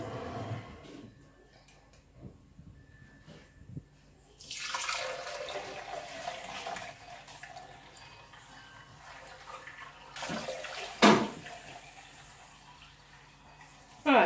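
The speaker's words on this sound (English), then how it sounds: "Karen is going to pour the contents through the strainer into our jug." First-ferment water kefir is poured through a strainer into a jug, a soft liquid trickle and splash that swells at around four seconds and again near ten seconds, with faint rustling and clinks between pours.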